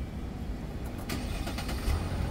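A 2013 Mercedes-Benz GL 350 CDI (X166) diesel engine starting: brief cranking clicks followed by a low, steady engine rumble settling into idle, close and moderately quiet.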